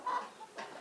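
A local parent stock breeding cock gives two short, raspy clucking calls, the first louder and close, the second softer, with no talk over them.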